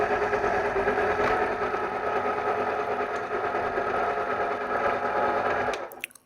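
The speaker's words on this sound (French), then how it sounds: "Dans cet usinage, je n'ai pas cherché à réaliser de cote précise, simplement à tester la machine avec plusieurs types de matières." A Gude GMD 400 CNC mill machining plastic produces a steady, fairly loud mechanical whir with a stable motor tone and cutting buzz, running continuously before stopping abruptly near the end.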